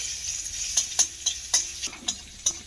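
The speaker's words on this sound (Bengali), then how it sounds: "এর মধ্যে দিয়ে দেবো এবারে আমি থেতো করে নেওয়া বেশ কয়েকটা রসুন" About five crushed garlic cloves land in a very hot pan of oil and fry with a bright, hissing sizzle, broken by quick sharp pops and crackles.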